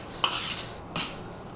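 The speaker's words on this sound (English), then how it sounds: "so just mix it once with the spoon." A metal spoon scrapes and stirs hot roasted besan with cardamom powder in a pan for ladoo, two brief clinking strokes close up, with quiet between them.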